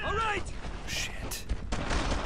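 Rapid bursts of gunfire rattle through the wartime shooter Brothers in Arms: Earned in Blood, mixed with game noise at a moderate level, with no clear voices.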